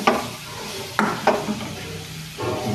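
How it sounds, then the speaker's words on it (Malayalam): Clams tipped into a pan of frying masala for a clam roast, then stirred: a spatula scrapes and clatters against the pan in a few separate strokes over a low, steady sizzle. "ഇനി നമുക്ക് നമ്മളെ കക്ക ഇട്ട് കൊടുക്കാം."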